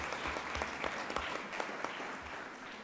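Audience applause fills a school board meeting room in Waynesville R-VI, October 2023, a steady wash of many hands clapping at moderate distance throughout, without speech.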